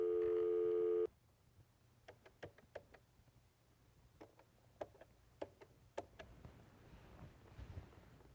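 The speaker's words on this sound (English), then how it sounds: "I'm dialing the phone number." A brief dial tone cuts off, then a series of short, sharp telephone keypad dialing tones and clicks follow at irregular intervals, fairly faint against a quiet background.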